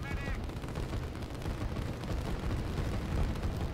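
Continuous barrage of artillery fire and bombardment against infantry in the Line War strategy game, a dense, steady rumble of overlapping blasts and gunfire with no pauses.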